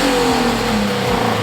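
A Toyota GT86 on its stock exhaust revs up close and loud, the engine note rising and falling in a quick burst of throttle blips.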